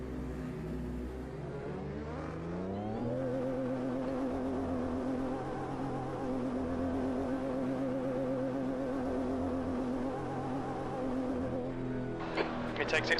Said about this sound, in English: Car sounds beefy as fuck.